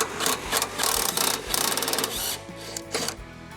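A ratchet wrench with a 15mm socket works loose the rearmost DEF tank bolt on the frame rail of a 2020+ Ford Super Duty pickup, giving rapid, close clicking bursts in uneven spurts with brief pauses.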